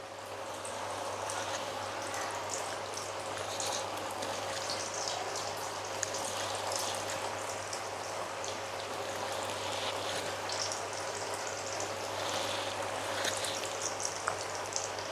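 Chandrakanthalu sweets fry in hot oil, giving an even, continuous hiss and bubbling that stays at a moderate level throughout, with a low steady hum underneath.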